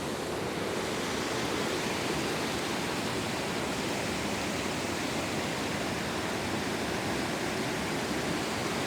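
A stream in Glen Coe rushes steadily, a dense, continuous roar of water close by with no other sounds.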